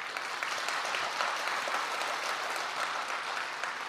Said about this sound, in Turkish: lütfen alkışlarınız devam etsin